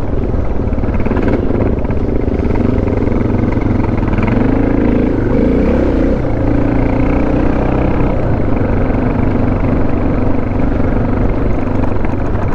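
Dual-sport motorcycles, including a 250L, ride over rocks and mud with a loud continuous engine drone that rises and falls as revs shift, close and steady throughout, no voices.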